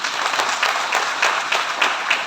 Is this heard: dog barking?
no